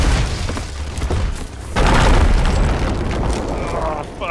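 Powder barrels exploding against a ship in a pirate video game, a loud deep boom that swells suddenly and rumbles on, with a player's voice heard briefly before it.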